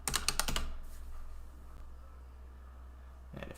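Quick bursts of computer keyboard typing, a rapid cluster of close clicks at the start and a few more keystrokes at the end, with quiet room hum between.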